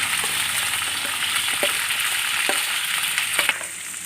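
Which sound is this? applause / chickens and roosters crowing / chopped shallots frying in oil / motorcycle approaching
chopped shallots frying in oil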